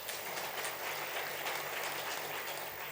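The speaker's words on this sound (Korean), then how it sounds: "다시 한번 박수로 환영하겠습니다" A church congregation applauding in welcome during a Sunday worship service, an even, continuous patter of clapping from many people, heard from a distance and fairly soft, with a low steady hum beneath.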